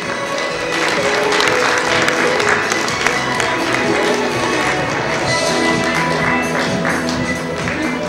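An audience at an awards concert applauds steadily, a dense, even patter of many hands that holds at a constant level with faint voices underneath.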